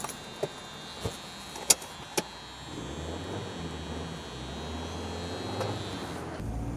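A 1986 Dodge Omni Shelby GLHS turbo gives a few sharp clicks up close, then a low, steady engine hum settles in and continues to the end.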